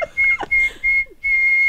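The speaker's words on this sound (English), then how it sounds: "it sounds like someone whistling the Luigi's Mansion theme" A person whistles the Luigi's Mansion theme, clear sustained phrases with short gaps, loud and close, with no talk over it.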